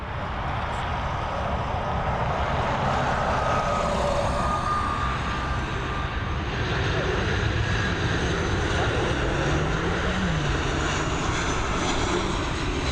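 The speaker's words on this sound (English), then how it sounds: "Next up we've got FR7157 coming in from Madrid, this Boeing 737." A Ryanair Boeing 737 arriving from Madrid lands at Dublin Airport, a loud continuous jet engine roar with broad rushing noise that swells and shifts as it passes, no voices.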